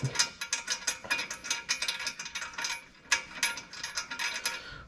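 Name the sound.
ratchet tightening running board hardware on a Nissan Titan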